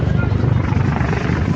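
A helicopter flies over a Hong Kong waterfront walkway, a loud, continuous low rotor thump heard alongside a person talking.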